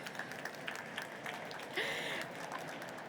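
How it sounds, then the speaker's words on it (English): At a construction industry panel session, a conference audience claps faintly and at a distance, a soft steady patter of applause with some murmuring underneath. "That deserves a clap, doesn't it?"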